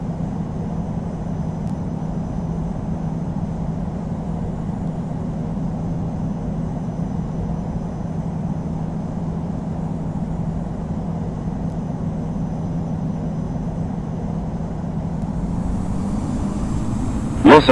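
A Delta Bombardier CS300 airliner in the flight game Infinite Flight rolls for takeoff on a gusty day at LAX, its engines a loud, steady low drone that swells slightly near the end.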